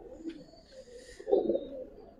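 A pair of Giribaz pigeons coo softly close by, a few low rolling calls with one fuller coo midway, in an otherwise quiet spot.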